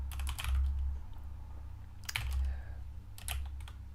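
Computer keyboard keys pressed in short clustered bursts for shortcut commands like cut, copy and paste, crisp clicks in three separate groups over a low steady hum, with no talking.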